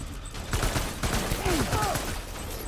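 Gunfire in Death Stranding: dense rapid shots crackle in bursts over battle noise, with a few whistling sweeps, while someone talks intermittently.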